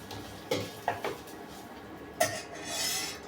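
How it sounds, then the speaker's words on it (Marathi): Onion and curry leaves stirred in a pan with a metal spoon, a few scraping clinks against the pan over a faint background sizzle, with no talking. "कांदा छान परतून घेऊ।"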